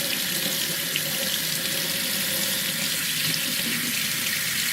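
Cold water runs steadily from a tap into a sink, a continuous close rushing hiss with no pauses and no voices.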